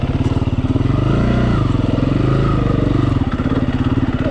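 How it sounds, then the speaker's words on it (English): A motorcycle engine close by revs as the throttle is rolled up, its loud pulsing rumble rising and falling in pitch for several seconds on a dirt-bike outing at Appin, NSW. "roll the throttle up."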